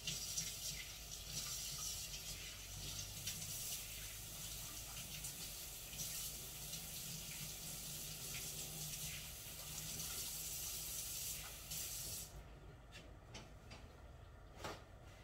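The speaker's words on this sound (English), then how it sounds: "Wash my hands." Hands being washed under a running kitchen tap, a steady close rush of water into the sink that stops near the end, followed by a few small clicks and knocks.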